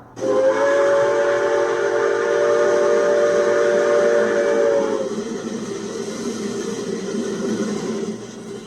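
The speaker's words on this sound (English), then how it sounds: "The sound of a steam locomotive working hard is pretty timeless and interesting" A steam locomotive working hard on the Georgetown Loop Railroad blows a shrill whistle for several seconds over a loud, hissing chuff, then the working engine carries on noisily alone.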